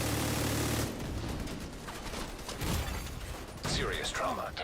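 Rapid bursts of gunfire from a shooter video game, crackling in clusters over a busy mix of game sounds, with brief talk and electronic chirps near the end.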